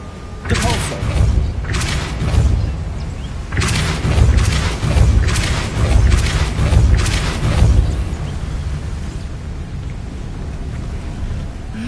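Depulso force spell cast in the Hogwarts Legacy video game, heard as a series of deep, booming thumps and blasts in clustered bursts, fairly loud against a low rumbling background.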